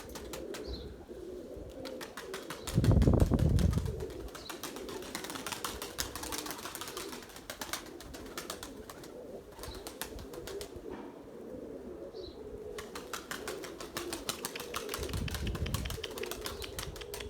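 Erzurum white pigeons are let out, giving soft cooing with bursts of wing flapping and a steady clicking, rustling texture over a low outdoor background, with no talking.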